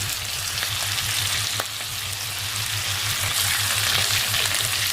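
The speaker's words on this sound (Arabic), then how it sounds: "نبتدي بقى نقلب اللحمه بتاعتنا كده على الوش التاني، هنستنى لحد ما تاخد لون كمان من على الوجه ده" Beef pieces frying in a pot after being flipped for onion and potato pot kebab, a loud continuous sizzle close up with a faint pulsing low hum underneath and a single sharp tick.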